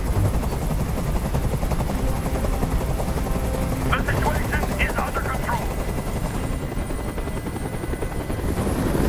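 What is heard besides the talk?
helicopter from a video game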